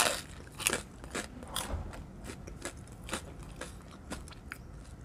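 Crispy Garden Gourmet protein pizza being bitten and chewed, close dry crunches in a loose rhythm, loud at first and then softer, no talking.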